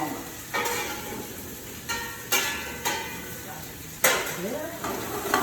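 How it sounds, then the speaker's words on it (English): Spices sautéing in a pan with a steady sizzle, broken by several sharp scraping stirs of a utensil against the pan, close and clear. "you could smell those spices working in the saute"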